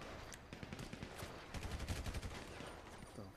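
Rapid bursts of gunfire in GTA 5 Survival Mode, quiet and somewhat distant, crackling in clustered volleys that thicken in the middle of the stretch.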